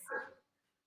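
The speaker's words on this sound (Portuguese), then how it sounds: "Desculpa aí pelos cães próximos aqui, que deve estar atrapalhando a live da gente" A single short dog bark sounds close by and then fades quickly into quiet.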